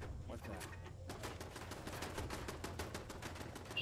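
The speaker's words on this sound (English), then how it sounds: "The robots are shooting at us again." Robots firing guns in Fallout 4, a rapid run of distant gunshot bursts crackling steadily for several seconds, fairly faint.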